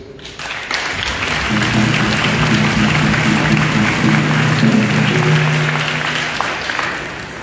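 Crowd applause at an outdoor march for missing and murdered Indigenous relatives, a loud, steady sheet of clapping with low voices or a drone humming beneath it, holding evenly for several seconds before easing slightly.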